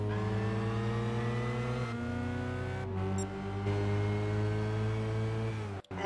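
A race car engine in Gran Turismo 5 revs and holds high pitch, dipping and climbing through gear changes with a brief cut near the end, loud and continuous.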